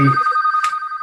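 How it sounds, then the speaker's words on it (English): A telephone rings with a steady electronic tone, loud and close, cutting in sharply at the start of a meeting. "sorry about that phone."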